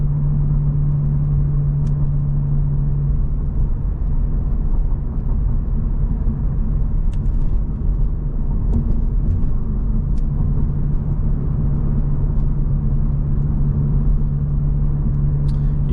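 A Honda Civic Type R FL5 with a valved exhaust drones at steady cruise inside the cabin, a continuous low rumble with a steady tonal hum, close and unchanging, with no talk.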